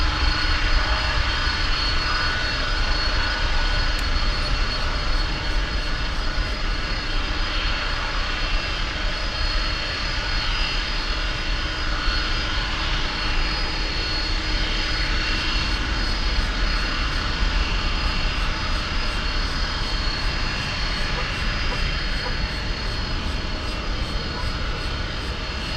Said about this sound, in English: ABX 31 for takeoff.